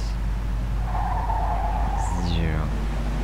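A car drifting in Mafia 2 lets out a long tire squeal, then a sharper rising and falling screech as the engine drones steadily underneath.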